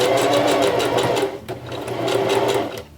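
A sewing machine stitches a crocheted piece onto a knitted Christmas sweater, running steadily and loudly at close range with a brief pause midway, then winding down at the end.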